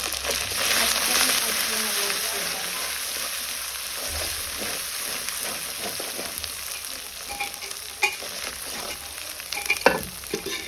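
Meat fat and bones cook in a pan with salt, turmeric and chili powder for a jackfruit curry, a steady hiss of frying with scattered stirring clinks growing sharper near the end, close and moderately loud.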